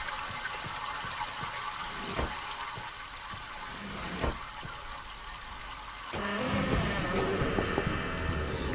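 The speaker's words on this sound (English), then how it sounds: "I can hear the water now" Water flowing in the Myst video game, a steady broadband wash that swells louder after a few seconds, with a couple of brief knocks along the way.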